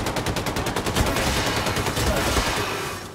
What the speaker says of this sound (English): Who's shooting me here?